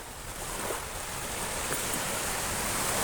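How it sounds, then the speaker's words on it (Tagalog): Sea waves wash onto the shore at Boracay in the early morning, a steady broad rush of surf with no distinct breaks, fairly close and continuous, no voices. "Ayan ang dagat."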